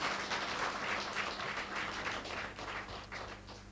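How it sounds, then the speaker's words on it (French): Audience applause at an interview event, a steady fairly faint patter of many hands clapping with a few sharper taps, dipping slightly toward the end. "on va applaudir les seigneurs d'abord avant qu'ils poursuivent"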